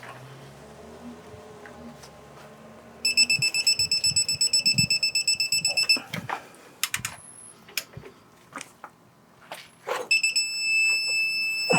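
A torque wrench tightening the front shocks on a 2004-2008 Ford F150 2WD lets out a steady, repeating electronic beep for a few seconds, set at its 250 maximum. Sharp clicks and clanks of work follow, with another beeping burst near the end.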